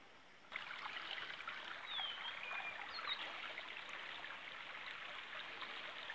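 Mountain stream water flowing beneath stones in the hills and forests of Haripur, Hazara, Pakistan, a steady close trickling and gurgling that starts abruptly and runs evenly, with faint bird chirps above it.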